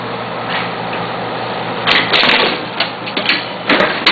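A Bourg SBM digital booklet maker with UT feeder runs a booklet set, giving a steady mechanical whir broken by louder rapid clattering bursts of feeding, stitching and folding, close and busy throughout.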